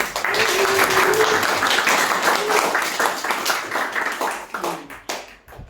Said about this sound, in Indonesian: Minta tepuk tangan dulu.